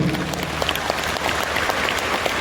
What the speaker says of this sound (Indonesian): Mak, tepuk tangan buat kita.